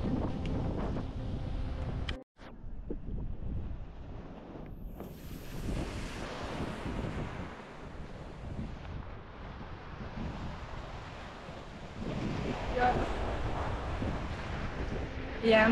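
Strong wind gusting across a beach in Tuscany, a steady broadband roar buffeting the microphone throughout with no pause, likely with surf mixed underneath.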